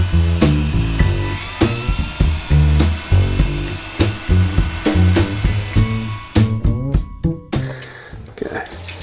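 A power sanding pad polishes an acrylic boat port light with light pressure, whirring in rapid pulsing bursts with short gaps between passes, loud and close, ending in a few faster stutters.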